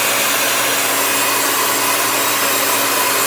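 A big hair dryer blasts hot air over a bamboo bunny craft coated in a crackle finish, giving a loud, steady whooshing roar that holds unbroken throughout with no voices.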